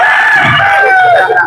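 A rooster at a chicken market lets out a loud, close, drawn-out crow that falls in pitch toward the end, with people talking around it.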